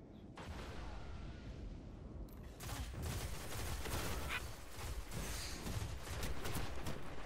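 Video game gunfire in bursts, rapid fusillade cracks and booms that thicken into sustained shooting, loud and dense throughout.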